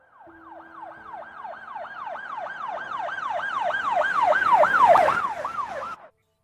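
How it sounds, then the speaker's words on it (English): Emergency vehicle siren wailing in rapid, regular rising-and-falling cycles, growing louder as it approaches and then cutting off abruptly. "He could hear the sirens wailing."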